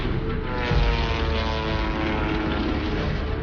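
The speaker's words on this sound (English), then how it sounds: "the United States Army secretly rushes to manufacture an unpiloted airplane known as the Kettering Bug" A propeller-driven World War I era aircraft, the Kettering Bug unpiloted drone, drones steadily and loudly with a constant buzzing engine and airscrew hum, no voices present.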